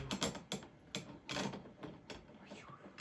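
Grind size dial on a Breville Oracle Touch BES990SST espresso machine being turned, giving a series of close mechanical clicks and ratcheting ticks in an uneven rhythm.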